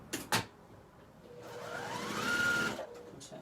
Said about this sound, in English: we will sew that last set and add it